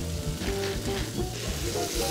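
Pork fillet and cherry tomatoes frying in a pan, a close, steady sizzle with faint stirring, alone without talk.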